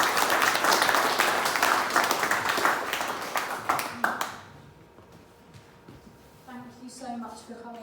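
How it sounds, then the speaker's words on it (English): An audience at a property networking event gives a round of applause, a dense, loud burst of clapping that fades out after about four seconds, followed by quiet talk. "can we just have a big round of applause for you guys?"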